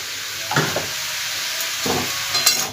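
Potatoes sizzling and frying in a pan with salt and turmeric, a steady hiss broken by a few louder stirring scrapes, close and alone.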